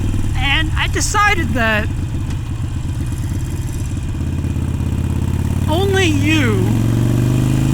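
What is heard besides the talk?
Harley motorcycle engine while riding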